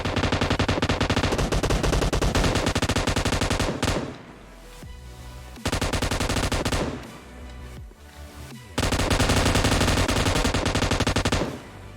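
Rapid automatic gunfire from the battle royale game PUBG Mobile, loud and continuous in three long bursts separated by brief quieter gaps, with no talk over it.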